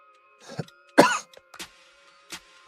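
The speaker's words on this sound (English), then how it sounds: "are you going to stop coughing soon?" A few short coughs and a throat clear, one sharp and loud in the middle, with quiet gaps between them.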